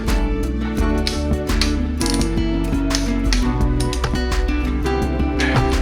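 A ratcheting torque wrench tightens the swing arm pinch bolt on a Kawasaki Concours ZG1000 motorcycle, giving a loud, close run of rapid metallic clicks in repeated bursts.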